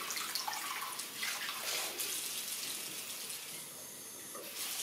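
Warm water running and pouring over hair during a scalp wash, a steady close splashing hiss that carries on for the whole stretch with no talk.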